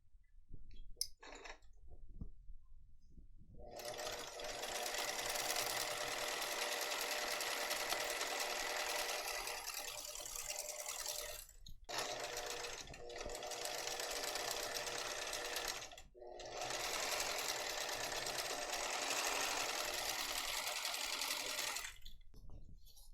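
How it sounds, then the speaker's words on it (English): A sewing machine lock-stitches across a seam on a purse-size tote bag, running in long steady bursts of rapid stitching with brief pauses between passes, close and clear with no talking. "I'm going to sew across here, so do lock stitch for sure"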